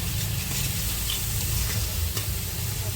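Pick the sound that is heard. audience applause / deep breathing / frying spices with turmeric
frying spices with turmeric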